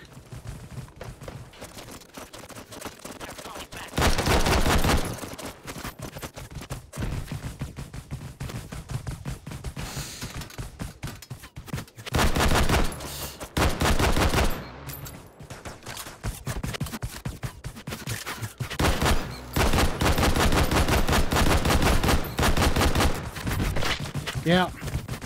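Gunfire in the VR shooter Hot Dogs, Horseshoes & Hand Grenades, with sharp bursts of rapid shots breaking out in several clusters between quieter gaps of faint handling noise.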